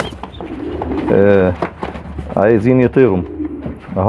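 Pigeon squabs crowding a cardboard carton give several soft, low coos in two clear bursts, close by, with someone talking in Arabic over and between them.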